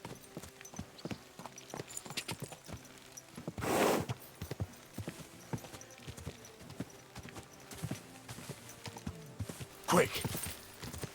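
Horse hooves clopping at a walk in the medieval game Kingdom Come: Deliverance 2, a steady rhythmic patter of close, moderately loud steps with a couple of louder rustling bursts and someone talking intermittently over it.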